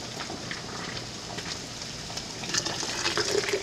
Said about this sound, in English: I'm literally just gonna ladle this boiling water.